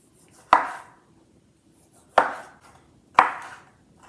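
Knife chopping tomatoes on a cutting board during kitchen meal prep: three separate sharp, close chops spaced about a second or more apart, each with a short ringing tail, in a quiet room.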